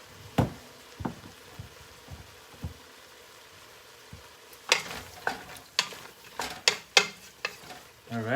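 Squash tomato soup with cilantro cooking in a pot, a low simmer broken by sharp knocks and clatters of a utensil against the pot, sparse at first and then quick and busy.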